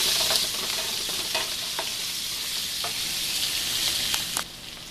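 Chicken biryani ingredients sautéing in a pan, a continuous close bright sizzle with scattered scrapes and taps of a stirring spoon, no talk.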